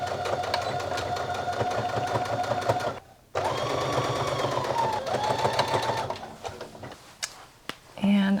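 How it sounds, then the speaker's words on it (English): A sewing machine stitches in the ditch along a waistband seam with a close, rapid mechanical whir, pausing once briefly, then resuming before slowing into scattered stops and clicks near the end. "we're going to stitch in the ditch to catch this fold and close up the waistband"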